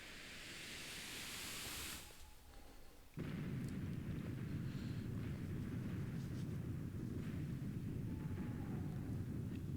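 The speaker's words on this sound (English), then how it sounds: "Prepare for a very fake, unrealistic-looking explosion." Cartoonish explosion in the video game Castlevania 64: a loud roaring rumble swells, briefly drops, then bursts back into a sustained broadband blast that rolls on steadily.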